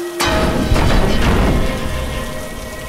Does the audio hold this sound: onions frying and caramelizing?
no